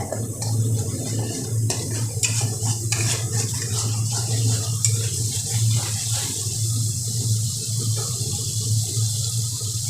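Spices for potol malai curry fry and sizzle in a pan with a steady hissing crackle and occasional scraping stirs, close and fairly loud, without speech.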